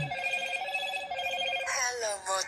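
A telephone rings during a call, a steady electronic ringing tone repeating for a couple of seconds at moderate, slightly distant level, shifting to a brighter warbling tone near the end.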